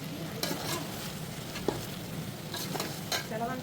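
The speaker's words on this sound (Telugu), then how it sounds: "చికెన్ ప్లస్ లివరు మొత్తం అంతా కలిపి బాగా ఫ్రై చేద్దాం" Chicken and liver frying together in masala in a pan, a steady close sizzle with occasional scraping stirs and small pops, no voices.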